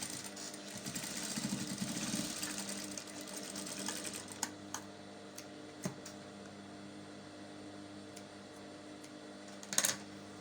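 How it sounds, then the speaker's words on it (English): A sewing machine stitches a wrap top belt, its steady mechanical whirr running for a few seconds before stopping, followed by small clicks and handling noises. "So just sewing."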